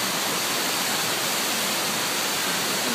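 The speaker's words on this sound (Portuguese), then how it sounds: "Uma mini cachoeirinha." A small artificial waterfall at Hamamatsu train station gives off a steady, even hiss of falling water that holds constant throughout, heard alone with no voices.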